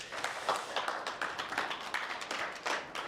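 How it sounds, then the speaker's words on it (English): Applause for both players at a pool tournament trophy presentation after the Men's Open Final, a steady patter of clapping hands from a modest crowd lasting the whole moment, close and lively with no talk over it. "round of applause for both players"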